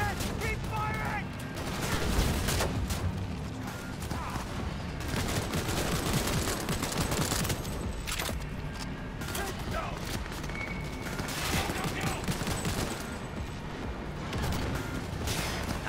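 Gunfire from Cyberpunk 2077 rattles in dense, overlapping bursts across the whole stretch, mixed with game effects and a voice talking over it.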